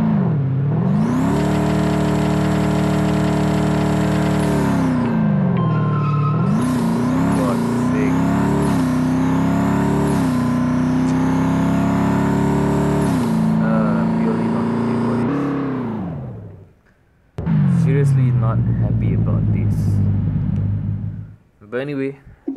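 A Ford Mustang GT in the Racing Rivals video game revs hard with boost engaged, a loud rising and falling engine whine that shifts through gears, cuts out briefly, then surges again before fading.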